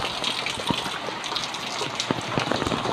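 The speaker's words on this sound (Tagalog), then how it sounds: "Ang lakas ng ulan." Heavy rain pours down steadily on a flooded street, a dense hiss of drops with scattered louder splats striking a nearby surface.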